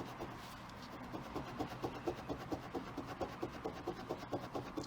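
A hand rubs polish around a metal fidget spinner, making a quick, even series of rhythmic scrubbing strokes, close and quiet, with no talking.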